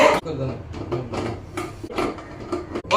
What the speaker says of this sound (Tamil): இங்க வச்சு குக்கர் மூட தெரியல